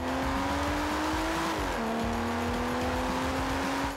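Aston Martin DB9 with a 5.9-litre V12 revving steadily, a strong sustained engine tone that dips briefly in pitch midway before holding again, loud and alone.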